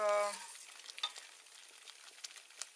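Sticky, bubbling stirring of boiling elderflower jelly in a pot, a spoon scraping and bubbles popping in irregular faint bursts after a short tonal hum at the start.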